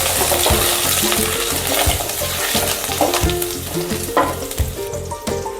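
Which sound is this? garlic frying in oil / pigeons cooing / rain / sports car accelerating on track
garlic frying in oil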